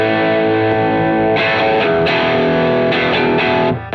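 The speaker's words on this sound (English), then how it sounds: "Then for a little more, you go to the distortion mode." An electric guitar played through a Duke of Tone pedal set to distortion mode, thick sustained chords ringing out loud and alone, with a few fresh strums restriking before the sound cuts off.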